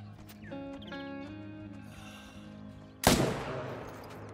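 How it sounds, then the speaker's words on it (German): A single loud rifle gunshot in the hunting game theHunter: Call of the Wild cracks out after a quiet stretch of tonal ambient sound, followed by a decaying echo. "Können wir, glaube ich, jetzt aus der Entfernung auch schießen."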